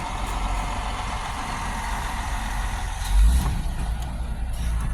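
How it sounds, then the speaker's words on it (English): A loud truck rumbles past with a steady, broad roar and a brief low surge midway. "another loud truck"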